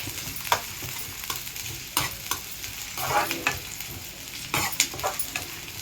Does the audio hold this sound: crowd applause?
no